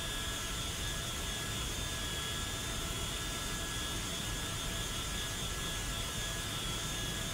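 A USAF C-32 jet taxis in the X-Plane 12 flight simulator, giving off a steady, even engine whine and broadband roar that holds constant throughout, with no voices.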